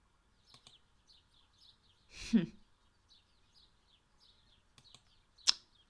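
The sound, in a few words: birds chirping in the video game Blanket Cat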